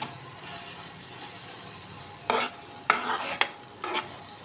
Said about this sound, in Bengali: তো এরপর আমি একটা চামচ দিয়ে এভাবে হালকা করে এগুলোকে এভাবে করে নেড়ে মিশিয়ে নেব চিনিটার সঙ্গে